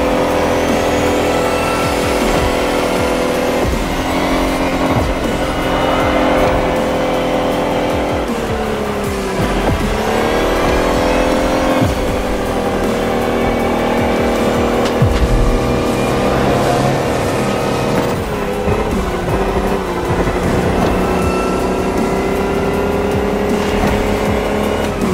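A 2,000-horsepower electric car races in The Crew Motorfest with a continuous high-pitched electric motor whine that rises and falls, and tires squealing repeatedly through hard corners.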